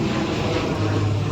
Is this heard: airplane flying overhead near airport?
yes